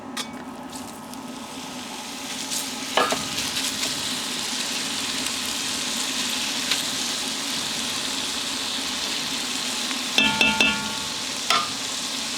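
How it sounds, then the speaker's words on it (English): Ground brisket browning in a Dutch oven for chili, heard as a continuous close sizzle with a few metallic scrapes and clinks of a utensil stirring the meat. "The Dutch oven, we're gonna start browning the meat."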